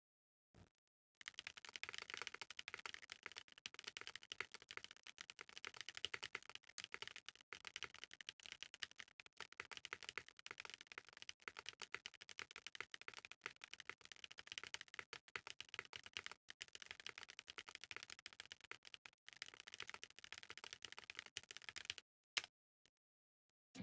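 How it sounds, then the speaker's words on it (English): Fast, continuous typing on a KBD8x MKII tenkeyless mechanical keyboard fitted with Boba U4T tactile switches, a quiet, close patter of dense keystrokes lasting about twenty seconds, ending with a few isolated clacks. "let's do a quick typing test before we start off"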